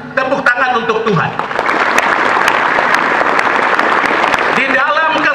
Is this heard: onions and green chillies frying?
no